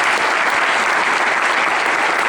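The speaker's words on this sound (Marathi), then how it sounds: "सुरुवातीला सर्वात पहिले या दोघांसाठी टाळ्या वाजायची चांगलं संचलन करू" Sustained applause from an audience at a spiritual gathering, steady and dense clapping that stays loud and close for the whole stretch with no voices.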